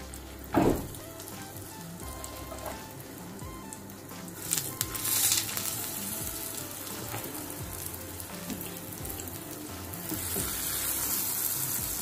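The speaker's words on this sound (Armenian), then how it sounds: "ձեթը կլցնենք, շատ չենք լցնի ձեթ և պեղադրենք մեր գեղեցիկ կարտոֆիլով բլիտները։" Steady sizzling of cheese-filled potato flatbreads frying in a little hot oil, with a few sharp clinks and crackles and a rising hiss toward the end.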